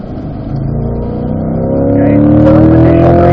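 Car accelerating out of a corner at Spring Mountain track, loud close engine note rising steadily in pitch as it pulls through the gears, with light talk in the background.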